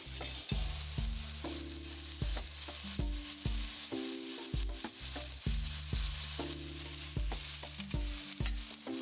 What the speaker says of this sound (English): You want a good amount of oil to make sure that you can get a nice browning on the mushrooms.